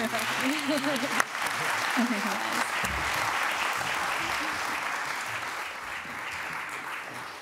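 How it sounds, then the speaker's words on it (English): Applause from a panel-talk audience at a fashion documentary event fills the room, steady moderate clapping that follows a brief spoken line and gradually tapers off. "Round of applause for this table, please."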